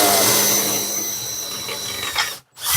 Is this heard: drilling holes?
yes